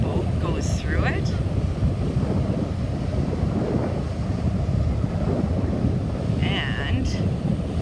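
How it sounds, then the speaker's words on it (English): Water rushes steadily around a ferry leaving Departure Bay, a broad continuous wash mixed with wind buffeting the microphone, with a couple of brief higher sounds breaking through. "You can hear the water as the boat goes through it."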